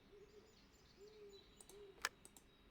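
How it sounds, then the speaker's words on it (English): An owl hoots in the Lost Lands adventure game, a faint, low tone drawn out over ambient background, followed by a brief sharper blip near the end. "Owl."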